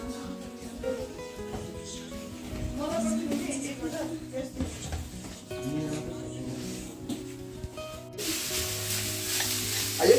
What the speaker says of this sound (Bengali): अभी ये फ्राइड राइस बन रहा है